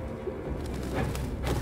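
Pigeons cooing in Detroit: Become Human, soft low murmuring calls with light fluttery bursts over a dim ambient background.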